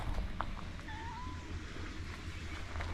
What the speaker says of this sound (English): Here's the sketchy cat that's always following me around.